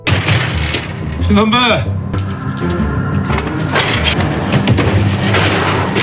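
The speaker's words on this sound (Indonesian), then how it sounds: "Tiba-tiba terdengar suara tembakan." Loud, dense burst of gunfire-like booms and impacts, heavy and continuous, with dramatic effects layered over the whole stretch.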